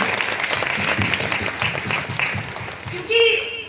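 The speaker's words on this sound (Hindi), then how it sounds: "एक जोरदार ताली चाहूंगी मैं अपनी टीम के" An audience at a stage speech event gives sustained, rolling applause for a team, with a voice carrying over the crowd's clapping.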